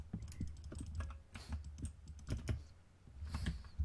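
Rapid, irregular bursts of mouse clicking from drag clicking while building a half circle house in Minecraft, close and fairly quiet, crackling in dense clusters with brief pauses between them.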